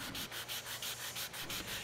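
Hand sanding a solid wood raised panel with a profiled sanding block, steady rhythmic back-and-forth rubbing strokes, about seven passes in under two seconds, close and even, with no voices.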